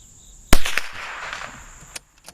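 A single sharp .22 rifle shot from a Ruger Precision Rifle cracks out close and loud, then decays through a short echoing tail, with a faint click near the end.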